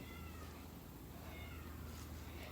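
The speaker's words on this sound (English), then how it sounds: "The cat is so loud." A Siamese cat meows loudly and insistently in a string of drawn-out, wavering cries, close and prominent with no talk over them.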